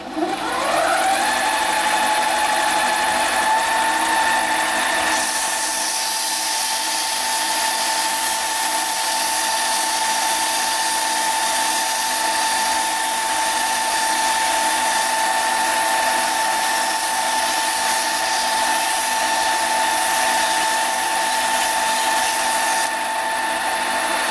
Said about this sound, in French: je vais passer du 180, de l'abrasif 180 pour affiner un petit peu